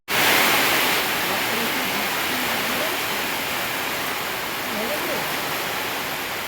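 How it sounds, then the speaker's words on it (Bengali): Rain falling outdoors by a river in the hills at Mirik, a loud, steady hiss of broadband noise that starts abruptly and holds evenly throughout, with faint voices underneath. "দেখতে পেরেছো, আবার বৃষ্টি নামলো।"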